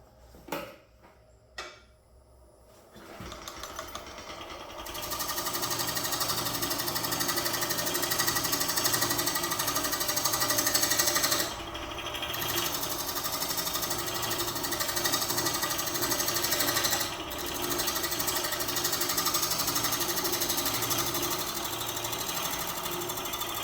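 Wood lathe turning a maple and epoxy bowl, a steady whirring drone with a rhythmic rattling chatter from the tool on the spinning wobbly blank, starting after a few quiet knocks and running continuously at moderate level.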